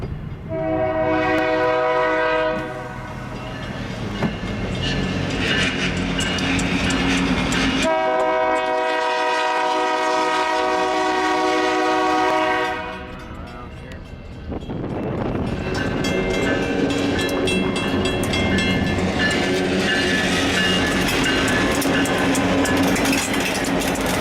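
A freight train rumbles past loudly and close, with long sustained horn blasts and a steady roar of wheels on rails throughout.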